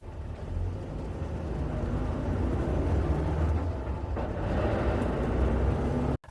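Vehicle sound effect from the King Collection Vehicles Volume 1 library: a loud, steady engine rumble with a heavy low end runs unbroken for about six seconds, then cuts off abruptly.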